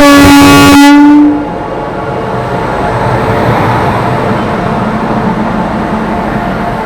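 The Asansol–Gonda Weekly Express, hauled by a WAG-9HC electric locomotive fitted with Kavach, passes with a loud, close horn blast lasting about a second. Steady, rumbling wheel and carriage noise continues after it, with no voices.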